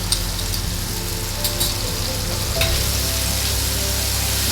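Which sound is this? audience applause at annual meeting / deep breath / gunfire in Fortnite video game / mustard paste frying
mustard paste frying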